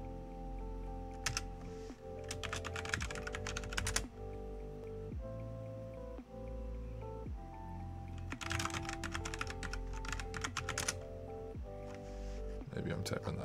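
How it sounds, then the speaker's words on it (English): Rapid typing on a computer keyboard in bursts of clicking keystrokes, close and clear, layered over steady background music with a voice talking throughout. "Maybe I'm typing the IP wrong."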